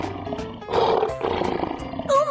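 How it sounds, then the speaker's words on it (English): A lion roars in a children's cartoon, a loud, drawn-out animated roar with bright musical accents at the end. "Lion."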